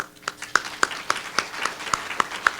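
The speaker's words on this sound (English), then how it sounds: "I want to give a round of applause to the folks who nominated this year." Audience applause for award nominators at a leadership recognition event, heard as a thin, steady run of sharp claps at an even, fairly quick pace, like a few hands clapping together in a room.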